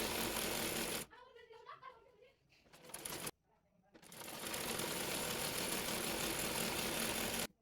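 A sewing machine stitches the body panel of a round sunnati dress in loud, fast runs that stop for a short pause with a voice, then start again and run steadily.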